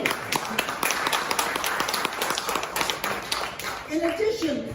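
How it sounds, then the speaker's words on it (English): Audience at a gubernatorial debate between two candidates claps in a steady, dense round of applause, with crisp individual hand claps standing out and voices carrying on underneath throughout. "let's applaud the future of this state"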